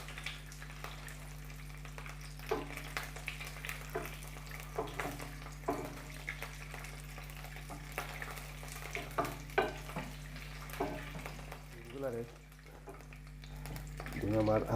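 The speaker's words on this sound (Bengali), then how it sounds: "ডিমটারে একটু ফ্রাই করবো" An egg frying in a pan gives a soft sizzle with scattered spatters and scraping clicks, fairly faint, and a voice talks briefly near the end.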